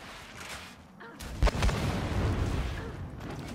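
Boomshot explosions in Gears of War 4 land as a sharp booming blast, with heavy rumbling impacts rolling on afterward.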